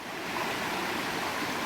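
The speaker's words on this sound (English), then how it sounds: "Here I am at Haywood Gap Stream. It got big really quickly." Haywood Gap Stream in the Pisgah National Forest's Middle Prong Wilderness rushes along after swelling quickly. It makes a steady, broad wash of flowing water, fairly soft and unbroken, with no voices.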